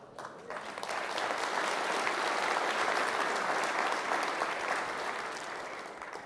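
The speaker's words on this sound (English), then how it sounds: "Another round of applause to Gregor for the work he's done" A large audience at a geothermal congress closing ceremony applauds in a dense, sustained wash. It swells over the first second, holds steady, then eases slightly toward the end, and no one speaks.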